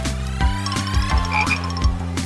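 A cartoon frog croaks in loud, close, rhythmic bursts, repeated deep ribbits evenly spaced over a short stretch, with no talking.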